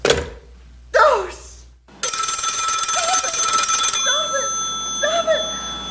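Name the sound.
telephone ringing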